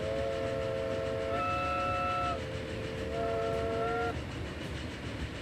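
A steam locomotive in the Transport Fever 2 game rolls along the track with a steady rumble while its whistle sounds two chords, the first about two and a half seconds long and the second after a brief gap, with no talking.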